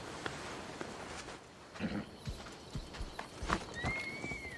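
Hooves clip-clop in an uneven trot as a horse is ridden in Assassin's Creed Odyssey, joined by a brief whinny and game ambience, moderately loud and close.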